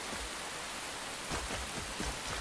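Heavy rain falls steadily in the video game Enshrouded, a dense, continuous hiss of downpour with faint patters, loud and unbroken with no one speaking.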